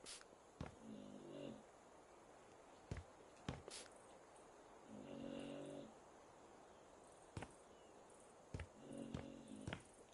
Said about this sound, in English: That's the dog snoring, guys.